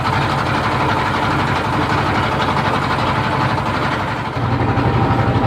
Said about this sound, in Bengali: আমরা ট্রলার ভাড়া করে এখন রওনা দিয়েছি ঝুলন্ত ব্রিজের উদ্দেশ্যে